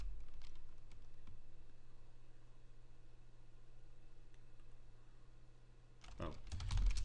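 Quick, light keystrokes tap on a computer keyboard while setting up software on a Raspberry Pi, soft and close over a low hum, ending in a louder burst of clicks and handling.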